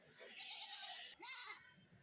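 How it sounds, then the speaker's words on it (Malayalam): A young goat bleats at a busy goat market in Kerala, two drawn-out nasal cries in close succession over a murmur of crowd noise, fairly near and clear. "ഒരു കുഞ്ഞു കുട്ടി ഒറ്റയ്ക്ക് നിന്ന് നല്ല വിളി വിളിക്കുകയാണ്"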